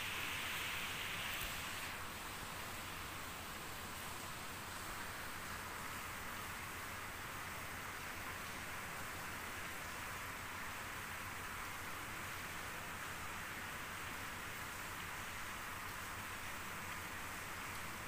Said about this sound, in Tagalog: Araw-araw na lang umuulan dito sa Malaysia.